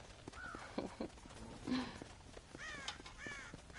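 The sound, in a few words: crows cawing, from the video game Red Dead Redemption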